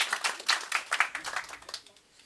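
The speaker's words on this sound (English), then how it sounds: "let's give some little applause of encouragement to Dan and Emma" Audience applause at a DevOps meetup talk, a short burst of scattered clapping from a small crowd that quickly fades out.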